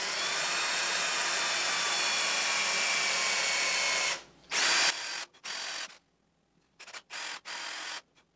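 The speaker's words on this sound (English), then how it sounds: "gonna drill the holes." A power drill drilling holes for a Davy lamp whirs steadily for several seconds, then runs in short on-off bursts with brief silences between, close and loud.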